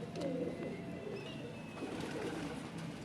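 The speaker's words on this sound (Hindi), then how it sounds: "ये जी हीरा लाल कबूतर" Heera Lal pigeon cooing softly at close range in steady low, throaty murmurs, with faint background chatter and a few distant chirps.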